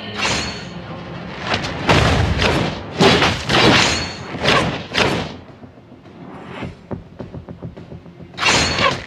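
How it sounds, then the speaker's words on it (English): Mobile Legends turret destruction, a series of heavy booming impacts and crunching thuds in close succession, loud and punchy, easing briefly before another burst at the end. "Your team destroyed a turret."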